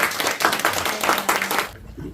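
An audience at a Korean community lecture on drug addiction breaks into loud applause, a dense wash of clapping lasting under two seconds before cutting off.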